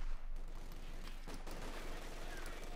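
MG42 machine gun fire in Company of Heroes 2, a steady wash of distant automatic bursts and battlefield noise running throughout, with a sharper crack of shots around the middle and faint voices mixed in.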